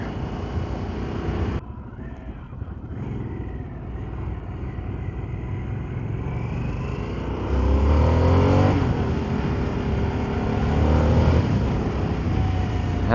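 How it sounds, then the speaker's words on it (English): A 2023 Harley-Davidson Sportster S motorcycle with stock exhaust rumbles steadily while riding, its low engine note swelling louder partway through amid wind noise. "It sounds kind of nice for a stock exhaust."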